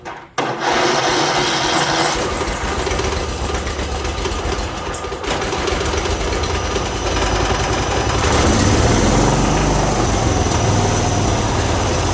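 A John Deere lawn mower engine with a 46-inch deck runs steadily after a brief start, its rough drone continuing loud and unbroken throughout with no talking.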